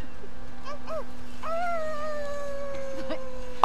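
A person's voice imitates a wolf howl, with a few short rising yelps followed by a long, drawn-out, wavering howl, close and clear over a steady background hum from The Last of Us 2 video game.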